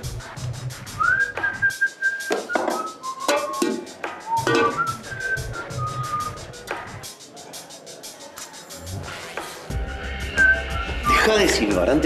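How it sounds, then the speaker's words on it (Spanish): A melodic whistled tune carries over music and talking voices, with sustained pitched notes rising and sliding before the scene grows louder toward the end. "deja de silbar porque no me gusta."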